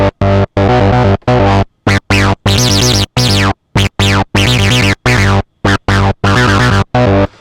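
Loud distorted synth notes from a Novation Bass Station II sequencer in choppy gated bursts, the pattern's timing shifting with rate divisions as pitch sweeps and chorus-like wobble color the tones.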